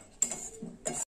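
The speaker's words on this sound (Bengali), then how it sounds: "একটু নাড়াচাড়া করে নেবো।" A spoon stirring a tamarind sour yam dish in a pan, two short metallic scrapes and clinks close by, with quiet gaps between them.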